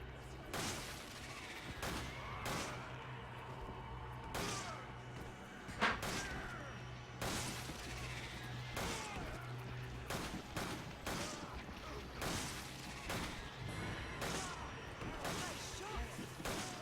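Repeated gunshots from a weapon in the video game Resident Evil 5, sharp loud bangs fired in an irregular rhythm over a steady background game soundtrack.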